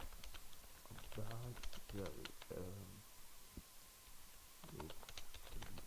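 Fingers type on a computer keyboard in light, quick clicks scattered beneath a person talking quietly.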